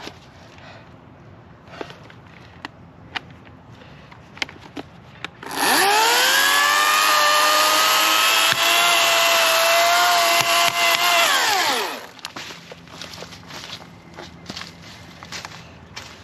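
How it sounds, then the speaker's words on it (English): A battery chainsaw revs up and cuts steadily through wood for about six seconds, its whine dropping as it winds down, with scattered clicks and taps around it. "I'll get their chainsaw now"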